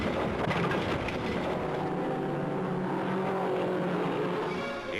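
Race cars at the Indianapolis 500 roar past in a dense, continuous rush of engine noise with shifting pitches, steady and fairly distant, blending with crowd and track ambience.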